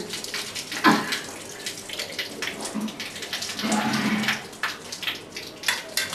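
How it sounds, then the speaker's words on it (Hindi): Potatoes are washed in water, making continuous splashing and swishing with stirring surges and sloshes throughout. The sound is fairly close and steady, with no clear talk over it. "आलू मानी बना आलू को धो रही हैं।"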